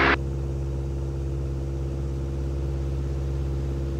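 A light backcountry aircraft engine runs at idle power in flight, a steady low droning hum with even tone throughout, preceded by a brief burst of noise at the very start.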